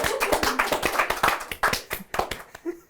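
Close, loud hand clapping at an informal interview, quick uneven bursts of sharp claps from one or two people, briefly pausing mid-way before a final flurry.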